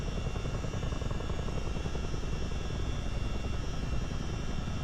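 A CH-47D Chinook tandem-rotor helicopter in Microsoft Flight Simulator drones steadily and loudly throughout, a dense rotor and turbine roar with a fast low thumping pulse and no let-up.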